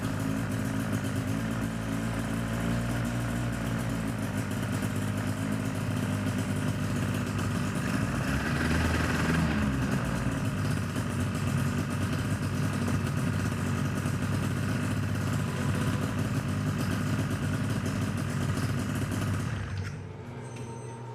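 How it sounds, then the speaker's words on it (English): The engine of a Rans S-12 ultralight aircraft with an RK400 clutch system runs steadily close by for about twenty seconds, swelling briefly midway, then drops away near the end. "I just thought I'd show you what it's like to start with the RK400 clutch system."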